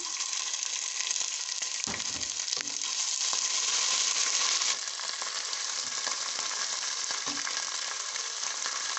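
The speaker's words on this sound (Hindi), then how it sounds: "अब हम इसमें ये लहसुन अदरक जो है ये डालेंगे" Steady, loud sizzling of garlic and ginger frying in hot oil with browned onions, with occasional stirring clatter and no talking.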